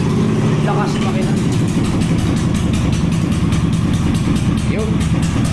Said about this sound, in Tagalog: Lakas yung makina.